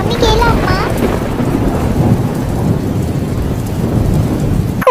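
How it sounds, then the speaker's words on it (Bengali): Cartoon thunderstorm with heavy rain: loud, dense rainfall and rolling thunder fill the scene, with a brief high chirping sound at the start and a sharp crack at the very end. "বাইরে অনেক বজ্রপাত হচ্ছে"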